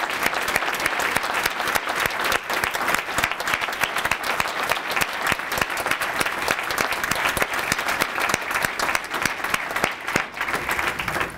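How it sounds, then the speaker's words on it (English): Sustained, dense applause from an audience honoring lawyers at a community service awards ceremony, many hands clapping steadily and loudly for the full stretch with no pauses. "Please give them another round of applause."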